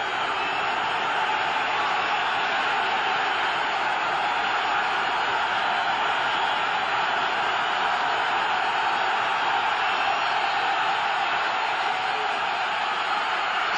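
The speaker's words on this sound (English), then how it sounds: "You can hear that crowd getting into the ball game" A packed County Stadium crowd of about 54,000 at a Packers–Buccaneers football game roars in a steady, unbroken wash of cheering and crowd noise throughout, loud and continuous with no clear breaks.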